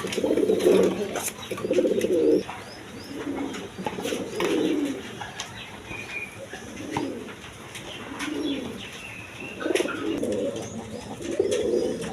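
A pair of American Lakka pigeons coo in repeated low, throaty bursts every second or two, fairly close, over a faint background hum.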